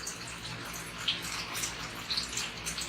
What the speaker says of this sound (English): It's pouring down rain outside.